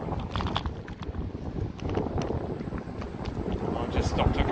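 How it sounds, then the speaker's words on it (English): Wind roars and buffets the microphone during a first ride on a Xiaomi Mi Electric Scooter Pro 2 outdoors, a loud, uneven rush that continues throughout with brief muffled bumps. "I'll just stop talking for a second because it's quite windy"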